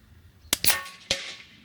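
A CZ 457 rifle shot fired into bamboo outdoors: a sharp report, a quick second snap with a ringing, hollow tail, then another crack, all brief and close with no voices.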